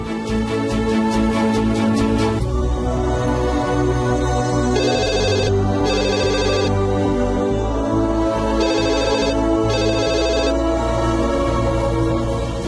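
An electronic ringtone plays loudly and continuously, a repeating melodic pattern with bright chiming bursts, no voices present.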